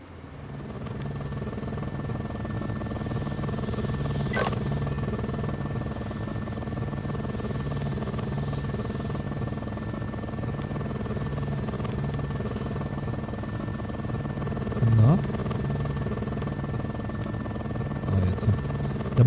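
A helicopter arriving in the game Emergency 20, its rotor thrumming steadily, a low continuous chopping drone that holds at a moderate level throughout, with a few faint clicks near the end.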